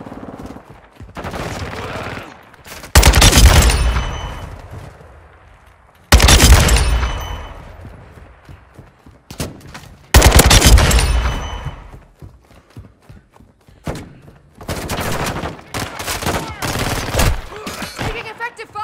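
Gunfire in Call of Duty Modern Warfare II, with loud bursts of automatic fire and booming shots in several separate volleys and quieter rumbling between them.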